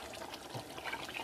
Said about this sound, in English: So I pour in my tola